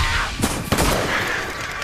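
A single sharp gunshot cracks out amid outdoor background noise, followed by a brief echoing tail.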